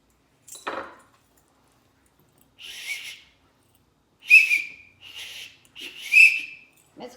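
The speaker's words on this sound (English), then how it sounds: "Moo blows his whistle." A person blows a small toy whistle in a series of short, shrill toots at close range, with quiet gaps and a brief knock between them.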